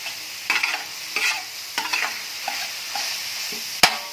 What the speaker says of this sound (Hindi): हम इसको तब तक भूनेंगे जब तक ये घी नहीं छोड़ देता